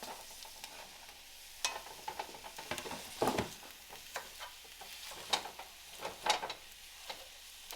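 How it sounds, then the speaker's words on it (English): Sausage and onions sizzling in a pan for Zuppa Toscana soup while a utensil breaks up the meat, giving soft frying hiss punctuated by irregular scraping and tapping strokes, close and moderately quiet, with no talking. "We're just going to kind of break it up a little bit like you're cooking beef"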